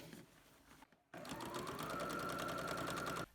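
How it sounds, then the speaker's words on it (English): A sewing machine stitches the side and bottom seam of a small fabric bag, starting after a short pause and then running steadily and rapidly, close up and alone. "pin it and sew it down the side and along the bottom"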